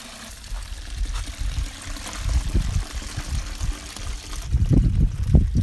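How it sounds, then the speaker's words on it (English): Home-brewed beer poured through a hop filter, a steady liquid trickle and splash that swells with louder gushes toward the end, close by. "Got some nice pouring going on."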